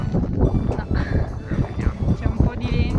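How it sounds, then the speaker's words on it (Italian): Gusty wind on a mountain summit in the Valle Intelvi buffets the microphone with low rumbling, while a voice talks intermittently in Italian over it. "C'è un po' di vento"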